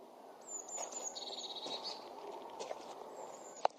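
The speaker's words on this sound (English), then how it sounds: "Chirping birds?" Birds chirping outdoors, thin high tweets and a short trilling call at moderate distance over soft rustling ambience, with a sharp tap near the end.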